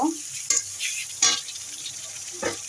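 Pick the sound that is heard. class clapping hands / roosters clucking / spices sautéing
spices sautéing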